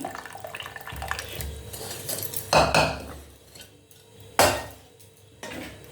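A utensil thumps and clanks against a metal pot in a few sharp knocks while mashing boiled potatoes, with soft scraping in between, close and without talk.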